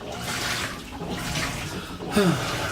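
Hot water pumps into a washing machine through its inlet line, a steady broadband rushing hiss throughout, with a brief voice-like glide rising near the end.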